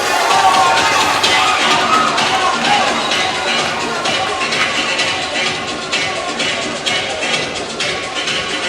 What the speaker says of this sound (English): The crowd trying to get behind Ramirez.